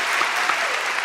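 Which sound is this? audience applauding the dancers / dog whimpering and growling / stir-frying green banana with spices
audience applauding the dancers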